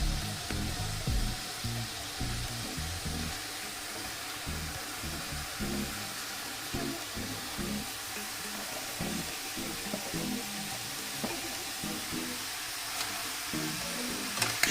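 A medium bottle gourd, thinly sliced, goes into hot oil with spices for a prawn curry, giving a steady, dense sizzle and hiss that holds throughout with light clatter underneath.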